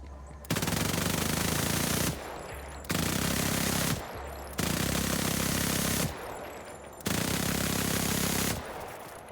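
Rapid automatic gunfire from a weapon in the video game Borderlands 4 roars in four sustained bursts separated by short gaps, loud and continuous.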